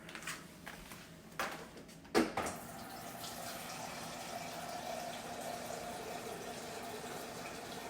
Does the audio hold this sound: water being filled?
yes